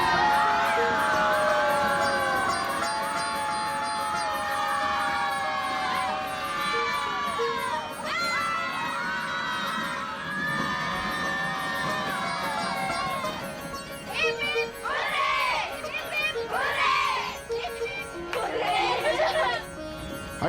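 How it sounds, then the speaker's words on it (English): Young school kids in uniforms cheer and shout together aboard a moving train as it passes through tunnels, a dense crowd of children's voices rising in repeated whoops over the constant rumble of the carriage. "The school kids in their uniforms cheer in unison every time we pass through one of the tunnels."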